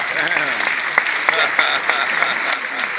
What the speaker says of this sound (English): Yeah, a big round of applause for Erica.